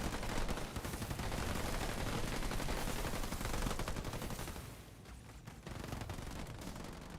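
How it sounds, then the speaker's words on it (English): Halo Wars 2 battle gunfire, a dense continuous clatter of shots and combat noise that dips briefly midway and then picks back up, loud and busy throughout. "More snipers at work."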